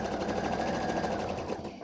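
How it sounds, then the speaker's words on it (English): Sewing machine stitching a fabric face mask with pockets for inserts, running steadily and close for nearly two seconds, a continuous rapid mechanical whir that eases off at the very end. "I'm going to sew both of them."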